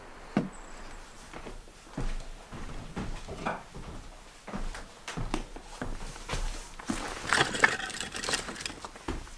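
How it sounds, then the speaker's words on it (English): Firewood is shifted and stacked by hand at an off-grid lake cabin in Nova Scotia, Canada, a run of irregular woody knocks, thuds and clatters close by, some louder bursts near the end, with no talking. "So I'm just moving some wood here,"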